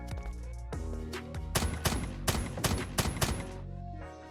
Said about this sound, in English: There's that fully auto gun